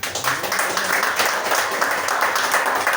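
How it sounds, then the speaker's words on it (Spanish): Congregation in a Spanish-language church service clapping for the Lord during a sermon, a close, steady roll of many hands lasting a few seconds, with a faint voice underneath. "Denle un aplauso al Señor"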